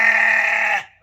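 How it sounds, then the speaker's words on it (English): A sheep or goat on a farm in Uganda where both are kept gives one loud, sustained bleat that lasts about a second, close to the recorder, then cuts off abruptly. "keeping both sheep and goats"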